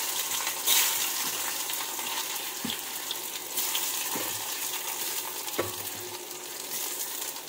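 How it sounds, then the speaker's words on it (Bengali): Ripe pumpkin pieces frying in hot oil, a steady close sizzle with occasional soft clinks and stirring sounds, no voices. "পাকা কুমড়োগুলোকে ভেজে নেব।"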